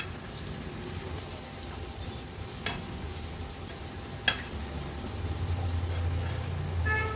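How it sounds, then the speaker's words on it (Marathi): Slices of elephant foot yam (suran) fry in a small amount of oil, giving a steady close sizzle with a couple of sharp clicks as pieces are flipped, and a low rumble rising near the end. "आता एक एक करून ह्या सुरणच्या फोडी मी पलटून घेते। तुम्ही बघू शकता अगदी कमी तेलावर तळतोय"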